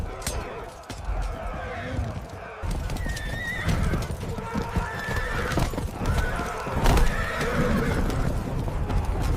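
Horses neigh repeatedly during a cavalry charge in an ancient battle, loud shrill whinnies layered over pounding hooves and rumbling battle noise, with a voice heard beneath the din.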